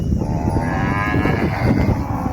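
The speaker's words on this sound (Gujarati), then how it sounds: "ગાયું બહુ રાયડું પડે" Cows on a roadside herding route low loudly and continuously, deep overlapping moos from several animals close by over steady outdoor rumble, with no talk.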